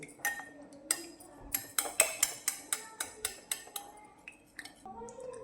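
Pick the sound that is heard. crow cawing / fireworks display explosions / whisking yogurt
whisking yogurt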